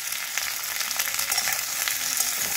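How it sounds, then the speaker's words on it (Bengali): Okra (bhendi) frying in a pan gives a continuous, soft, close sizzle with light crackling texture and no voices. "এবার এটা খানিকক্ষণ ভাজা ভাজা করতে হবে"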